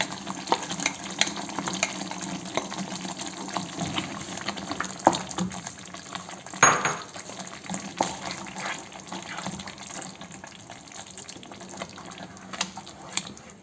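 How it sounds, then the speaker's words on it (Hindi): Spinach for palak paneer goes into a cooking pot and is stirred, giving soft sizzling, wet rustling and scraping with a few light clinks at close range. "चलिए पालक शामिल कर देते हैं।"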